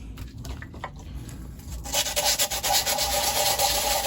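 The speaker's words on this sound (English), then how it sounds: "with wet sanding, this 150 grit doesn't last very long." Wet 150-grit sandpaper rubs back and forth over a hard resin 3D print in quick, steady strokes, growing louder and rougher partway through, close to the ear.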